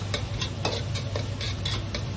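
Cucumber dish stir-fried with chili paste and dried fermented black beans, a spatula scraping and tossing in a hot wok with a steady low sizzle and irregular clacks throughout.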